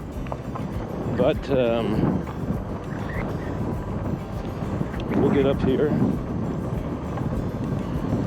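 Wind buffets a microphone outdoors as a vehicle pulls out of a small RV park, a continuous low roar with gusty surges, while someone talks over it.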